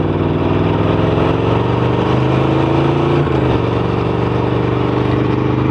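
Motorcycle engine running steadily at low speed on a wet road, a loud continuous mid-pitched drone with a pitch drop around the third second as the clutch is eased out through a turn.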